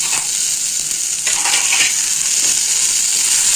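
Onion, tomato, garlic and curry leaves sauté in a pan for a lentil-ball kuzhambu, giving a steady close sizzle with a few faint stirring scrapes and no talk.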